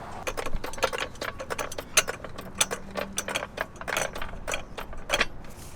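A floor jack is set under the subframe of a BMW F10 528i with the N52 engine during a motor mount job, producing a close, irregular run of sharp metallic ratcheting clicks with no talking.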